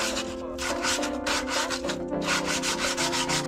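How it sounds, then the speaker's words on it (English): Sandpaper rubbing the handbrake shoes of a BMW E46 M3: close, steady back-and-forth scraping strokes in a regular rhythm, with no talking. "always a good idea just to rough it up with some sandpaper"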